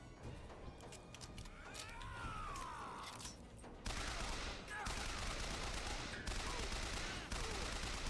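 Bursts of gunfire in the video game Bioshock Infinite, rapid shots and booms layered over a dense game soundscape, moderately loud, with a faint voice briefly heard.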